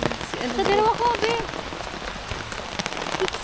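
Steady rain falls on surfaces close by, a constant hiss of drops under the chatter of voices.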